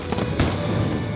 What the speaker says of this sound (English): entire teams of volunteers from each parish build their own firework, and during that feast, they happily blast them every day from 8 a.m.